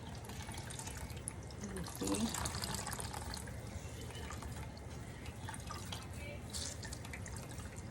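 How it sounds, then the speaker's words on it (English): Liquid from shrimp consommé strains through squeezed cheesecloth in a steady, close trickle and patter of drips, with a brief spoken remark over the running liquid. "simply going to just squeeze all the excess water out"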